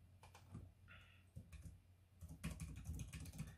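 Someone types a username on a computer keyboard, giving soft, quick clusters of key taps with short pauses between them, faint and close, with no talking.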